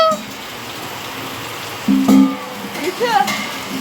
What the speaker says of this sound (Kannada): ಮಳೆ ಬೇರೆ ಬರ್ತಿದೆ